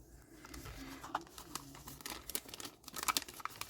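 Small plastic bag being cut and handled, with soft crinkling rustles and a few light snips, quiet and close.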